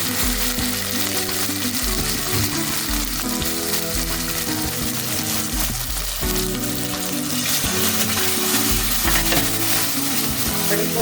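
Ground green chilli paste for thokku sizzles and sautés in a pan, a continuous loud frying crackle with occasional stirring, over steady background music.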